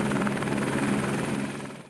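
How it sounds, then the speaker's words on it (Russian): An Airbus H125 single-engine gas-turbine helicopter runs steadily nearby, its dense turbine whine and rotor drone holding even throughout before easing off slightly at the end. "А это одномоторный газотурбинный вертолет Airbus H-125."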